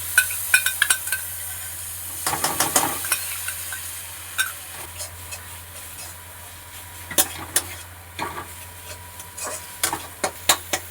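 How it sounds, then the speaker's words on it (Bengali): Spice paste for a Bengali fish curry stirred and fried in a pan, a steady sizzle under repeated scraping strokes of a spoon, with bursts of clattering stirs coming in quick clusters throughout. "এবার এটাকে আমি ভালো করে কষবো।"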